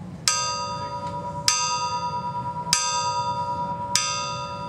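Ship's bell aboard the US Brig Niagara, a flagship brig, struck four times at a steady slow pace, each loud metallic clang ringing on with a long, shimmering decay.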